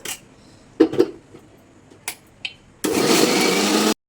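A blender whirs loudly and steadily for about a second, blending a tangy-sweet custard apple shake, preceded by a few clicks and knocks of the jar being set up.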